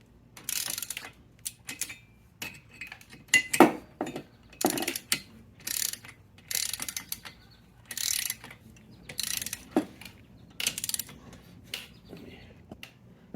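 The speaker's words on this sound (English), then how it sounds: "we're going to torque the head down to 14 foot-pounds in a crisscross pattern" Torque wrench tightening the cylinder head bolts on a seized 1979 Vespa P200E engine to 14 foot-pounds in a crisscross pattern, giving close, repeated bursts of ratcheting clicks separated by short pauses.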